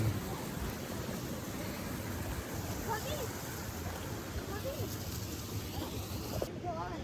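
Glenmacnass Waterfall in Ireland pours with a continuous, wide hiss of rushing water, close and steady throughout, with a few faint chirps riding above it.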